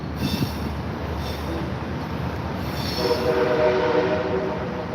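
A light rail train rolls past steadily, with wheel squeal and a sustained horn sounding partway through, heard up close from the roadside while cycling across America.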